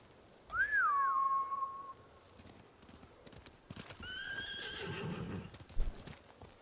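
Horses neigh and whinny in a game set in feudal Japan, Ghost of Tsushima: a loud, sweeping whinny near the start, then a second fainter, overlapping neigh with hoof clatter and rustling later, no speech.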